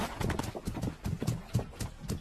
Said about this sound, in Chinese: 马蹄声其实是用2个椰子壳敲击出来